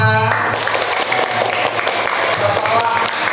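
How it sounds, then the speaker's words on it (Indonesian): A classroom of students claps together in a brief burst of dense, lively applause, with voices mixed in. "tepuk tangan untuk kita semua"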